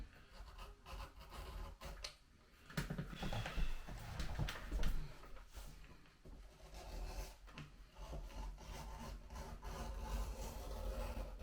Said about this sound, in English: Let's get this edge beveler and trim the edges of the strap